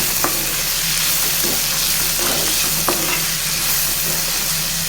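Green peas and tomato curry frying in a pan with salt, a steady sizzle under periodic scraping strokes of a spoon stirring the mixture.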